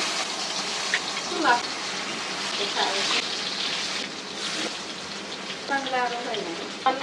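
Ash gourd frying in a pan with mustard paste: a steady hissing sizzle throughout, moderately loud, with a few brief bursts of a voice talking near the end.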